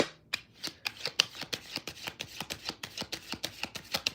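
Tarot cards riffle and snap in a quick, steady run of crisp shuffling bursts, close and fairly loud, with no voice over them.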